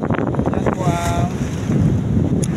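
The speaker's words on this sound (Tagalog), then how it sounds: "sobrang lakas ng hangin at alon" Strong wind buffets the microphone at sea, with waves and rushing water under a steady, loud roar, mixed with faint boat noise and a brief tone; no speech.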